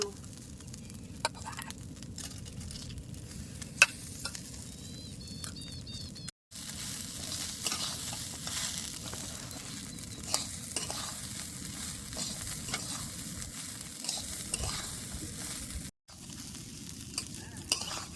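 Washed masoor lentils are stirred into bhuna khichuri in a pot, giving a soft, steady sizzle with repeated spoon scrapes and light clinks against the metal, briefly cut off twice.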